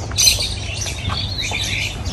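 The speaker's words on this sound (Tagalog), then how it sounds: "At ayun, daming ibon." Several birds squawk and chirp together in a steady chorus, high-pitched calls overlapping against a low background rumble, with no talking.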